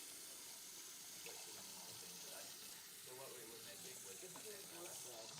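A kitchen tap runs steadily while hands are rinsed of onion juice, a faint continuous splashing hiss with light irregular spatters, and people talk quietly over it.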